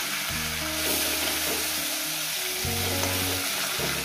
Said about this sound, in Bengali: মাছের মাথাটা মোটামুটি আরেকটু এই পিসটা একটু ভেজে নেবো